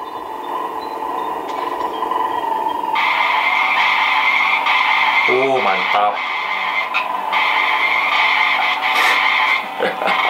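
A car skids in the Ice Scream horror game, a steady loud droning screech with shifting pitch holding for several seconds while someone speaks briefly over it.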